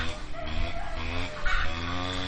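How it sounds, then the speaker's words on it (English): A hen sitting on a nest clucks steadily at close range, a continuous run of low, throaty murmurs with a slightly louder rise near the end. "I've got a chicken on a nest."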